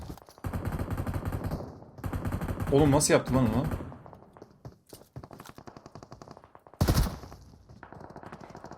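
Rapid machine gun bursts in the mobile battle royale game PUBG Mobile, loud and near, with sharp single shots between volleys and someone talking over the firing.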